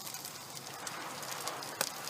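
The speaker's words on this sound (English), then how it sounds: "Sizzling bacon." A soft, steady sizzle and crackle of bacon frying at a barbecue, continuous and fairly quiet with a brief louder pop near the end.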